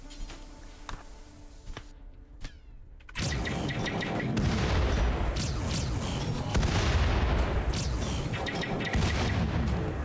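Automated turrets open fire on zombies in a survival video game, a sudden sustained barrage of rapid booming shots that kicks in after a few seconds of quieter scattered sounds and stays loud and dense to the end.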